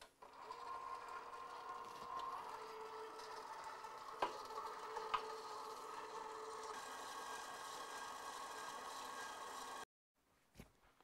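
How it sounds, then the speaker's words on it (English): Electric mixer running steadily while blending a honey-sweetened homemade mint chocolate cookies-and-cream ice cream base, a continuous whirring motor hum with a couple of brief knocks, then it cuts off abruptly near the end. "just turn your mixer on till it's all incorporated"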